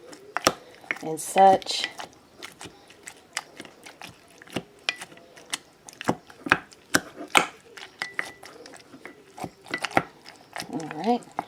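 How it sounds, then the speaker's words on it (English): Strawberries and mint muddled with a wooden spoon, making a string of quick wet thuds and squishes, close and uneven, with a few words spoken briefly in between. "Usually people use what's called a muddler and smush things together."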